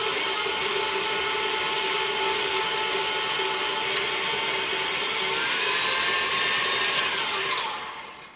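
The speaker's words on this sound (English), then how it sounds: "I'm just going to beat this to get it creamy for a moment." An electric mixer beats softened butter for buttercream icing in a kitchen, giving a steady, loud, high-pitched whirring drone that holds for several seconds before cutting off near the end.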